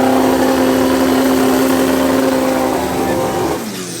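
A drag-race car at the line, an Audi R8 or an A14 pushrod racer with a broken fifth gear, holds a loud, steady high-revving engine drone close by, then the pitch drops and the noise eases near the end.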